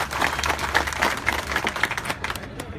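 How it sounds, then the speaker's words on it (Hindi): A crowd at a political speech in Mumbai breaks into dense, continuous applause, with bright, rapid clapping at close to middle distance that thins out at the end. "तालियां बजाकर स्वागत करो आप लोग"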